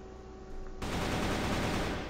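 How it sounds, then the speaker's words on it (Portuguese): A sustained machine gun burst fires in the CrossFire online shooter game, a dense, rapid rattle of gunfire that starts abruptly and keeps going loud to the end. "não era pra ter dado essa rajada"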